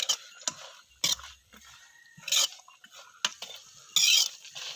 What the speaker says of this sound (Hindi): तमाम चीज़ों को अच्छी तरीके से फ्राई करना है।